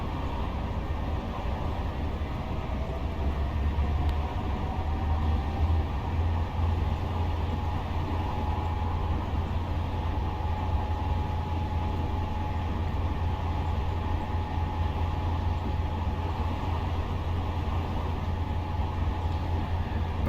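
In the Train Simulator video game, a Class 57 diesel locomotive hauling freight on the Doncaster to York line accelerates with a continuous, steady engine drone and low rumble, with no one talking.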